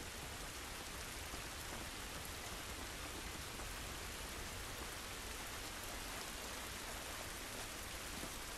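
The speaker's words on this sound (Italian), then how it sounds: "Questa pioggia non va bene." Steady, dense rain pours continuously in The Last of Us, a broad hiss of drops striking surfaces with no pauses, evenly loud and close throughout, with no voices over it.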